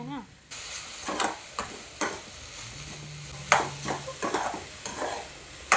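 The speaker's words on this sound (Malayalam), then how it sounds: "ആദ്യം മല്ലിപ്പൊടി പിന്നെ നമുക്ക് ആവശ്യത്തിന് എരിവിനനുസരിച്ച് നമുക്ക് മുളക് പൊടി ഇട്ടുകൊടുത്ത് നമുക്കൊന്ന് നന്നായിട്ടൊന്ന് മിക്സ് ചെയ്തെടുക്കാം" Coriander and chili powder are stirred into a sizzling chickpea curry masala, a constant frying hiss broken by repeated sharp clanks and scrapes of a spoon against the pan, with a brief low hum partway through.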